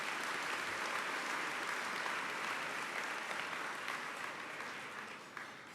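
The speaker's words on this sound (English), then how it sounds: "And I'd ask everyone to give another round of applause for Richard." An audience at an awards-for-excellence ceremony gives a round of applause for an award recipient, a steady dense clapping that holds for several seconds and then tapers slightly toward the end.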